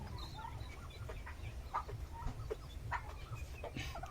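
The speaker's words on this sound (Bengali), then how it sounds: "এই যে 4 পিস আছে, দুইটা মুরগি দুইটা মোরগ," Golden Sebright chickens, two hens and two roosters, cluck softly in short scattered calls over a low background rumble, faint and close by.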